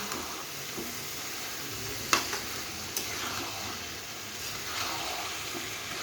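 Koi fish curry is sautéed in a pan with a soft, continuous sizzle, a couple of sharp clinks of a utensil against the pan, and gentle stirring throughout.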